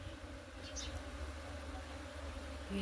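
A dense swarm of honeybees buzzes steadily nearby, a continuous faint hum with occasional louder passes of single bees close by.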